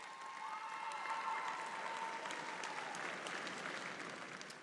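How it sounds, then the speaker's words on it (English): Steady, dense applause from a graduation ceremony audience for the McGavock High School Class of 2022, sustained and even throughout with no voices over it. "help me in giving our families and all of your supports a round of applause"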